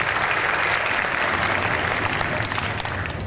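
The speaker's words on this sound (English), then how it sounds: "can we get a round of applause real quick?" A rowing crew awards banquet audience gives a round of applause, sustained clapping from a roomful of people at a steady, fairly loud level with light crowd noise.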